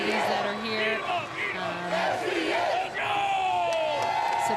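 Loud indoor crowd at a Class D1 girls' volleyball championship, Amherst vs Sumner-Eddyville-Miller, shouting, whooping and chanting in a continuous roar with rising and falling waves.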